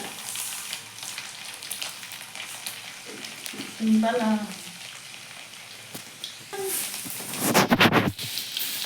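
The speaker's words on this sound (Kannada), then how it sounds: "ಈಗ ಒಗ್ಗರಣೆ ಕೊಡಕತ್ತಾರ ನೋಡ್ರಿ." Garlic and spices being tempered in a hot pan for a black-eyed pea curry, crackling and sizzling steadily with a louder burst near the end, while voices talk intermittently over it.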